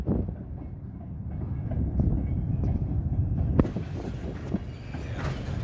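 An eastbound Norfolk Southern Herzog rock train, a freight train in Columbus, Georgia, rumbles steadily past nearby with low wheel clatter and occasional sharp clacks.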